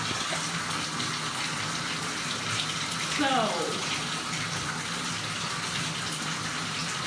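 Tap water gushes steadily into a tub while a dog is being bathed, a continuous, moderately loud splashing stream with a brief swell midway, and a person speaks briefly over it.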